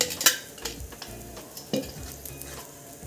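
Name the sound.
mango puran poli cooking on a pan with oil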